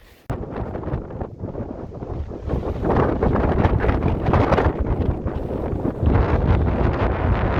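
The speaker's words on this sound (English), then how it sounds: "As you can probably hear, the wind has severely picked up." Strong gusty wind on the coast near Kettleness roars and buffets the microphone, growing louder and more continuous as it goes, with no other clear sound above it.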